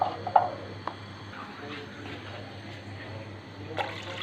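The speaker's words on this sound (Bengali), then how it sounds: "আমি এখন দিয়ে দিব পরিমাণ মতো পানি" Water poured into a simmering pan of egg curry with eggplant gives a soft, steady pouring wash over a low kitchen hum, with a few faint clicks near the start and end.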